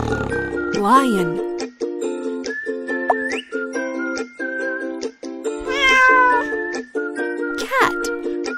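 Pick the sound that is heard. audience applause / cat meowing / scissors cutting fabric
cat meowing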